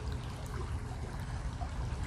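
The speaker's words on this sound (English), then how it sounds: "The waters need to flow, just like this babbling brook right here." A babbling brook trickles and gurgles softly in a steady, low, continuous wash of running water, heard alone without voices.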